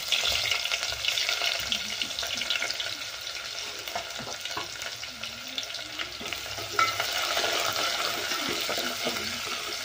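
Chopped onion sautés with mustard seeds in oil in a pan while dal is being made, a steady close sizzle with stirring scrapes and occasional spatter, continuous throughout with no speech.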